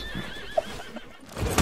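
A horse whinnies in a video game, rising tonal neighs over a short bed of hoof clatter and game ambience, ending in a louder burst of noise.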